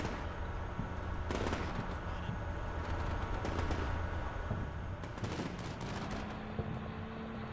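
Troops firing guns in the war game Combat Mission, with a steady crackle of rifle and machine-gun bursts at moderate distance over a constant battlefield rumble.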